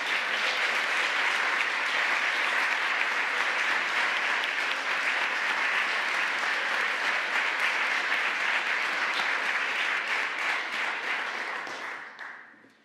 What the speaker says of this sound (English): Can we have one more round of applause for all 8 of our teams?